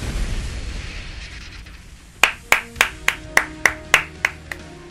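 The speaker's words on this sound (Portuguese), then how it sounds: "E a galera aplaudindo." Applause and cheering for the hero in a superhero simulator video game, starting after a rumbling intro with a run of about nine sharp, evenly spaced claps ringing out loud and clear.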